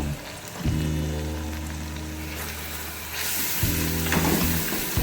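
Spices and mutton fry for Lahori-style bong paya, giving a steady close sizzling hiss alongside a low droning hum, with the frying surging louder toward the end.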